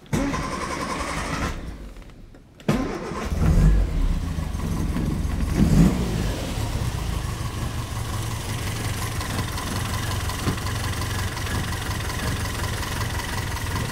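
Classic Mini engine with a carburettor idles close by with a steady, rumbling drone after a brief break and a restart burst, then holds an even idle.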